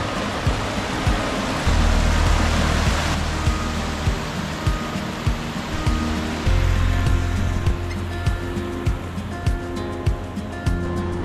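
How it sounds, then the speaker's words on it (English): The Virgin River in Zion National Park, Utah, rushes loudly and steadily close by, a dense broadband roar with faint rhythmic knocks and low rumbling swells underneath. "Here we are at the Virgin River."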